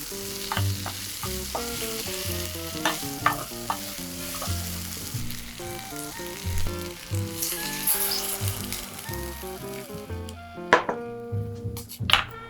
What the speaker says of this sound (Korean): 썰어둔 감자를 넣고 볶아주세요. 중불에서 감자가 반투명하게 될 때까지 볶아줍니다.